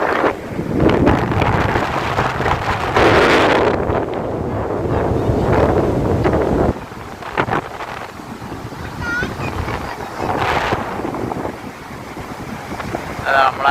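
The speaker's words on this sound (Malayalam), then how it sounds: "നല്ല കാറ്റാണ് കേട്ടാ" Strong wind gusting across an open beach with heavy microphone buffeting and a faint wash of waves behind, loud and continuous for most of the stretch, easing somewhat partway through.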